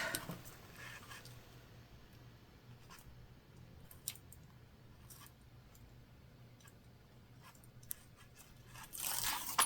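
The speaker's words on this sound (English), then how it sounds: "We're going to remove our double-sided tape." Double-sided tape being peeled off fabric while sewing a tote bag: quiet, scattered crackly tearing ticks, then a louder rasping rip near the end, with no talking.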